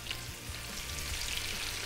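Sausage steaks sizzle in a pan of butter and olive oil, a steady, close, crackling hiss with no talk over it.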